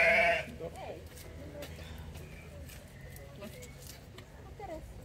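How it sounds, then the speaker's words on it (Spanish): Dorper sheep at an animal sanctuary bleat in a short burst at the start, then the sound drops to a steady farmyard murmur with faint animal noises in the background. "Otra especie de... como de oveja, ¿verdad?"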